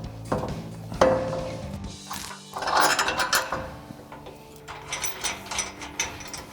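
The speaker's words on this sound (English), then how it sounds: "Now we just need to tighten down our bolts." A 17mm socket ratchet wrench clicks in quick repeated strokes, close and clear, tightening the mounting bolts of a Barricade 3-inch bull bar on a 2019-2025 Ford Ranger.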